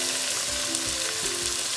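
Ingredients sautéing in a pan for sinabawang tahong (mussel soup), a loud, dense, steady sizzle with faint scraping stirs underneath, close and continuous with no talking.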